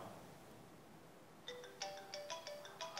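A phone ringtone from an incoming call begins halfway through, a bright repeating electronic melody of short chiming notes that plays clearly over quiet room ambience.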